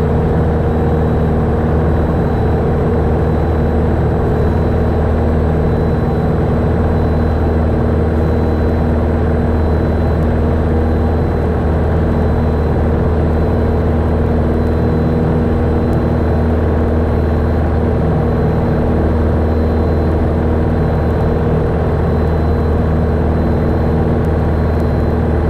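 Light aircraft engine running steadily while taxiing to the fuel station at an airfield, a loud, constant droning hum heard from inside the cockpit with no talk.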